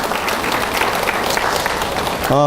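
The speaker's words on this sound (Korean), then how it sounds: "함께 박수로 격려했으면 좋겠습니다" Dense, steady applause from a large church retreat audience fills the clip, a continuous wash of clapping that cuts off abruptly at the end.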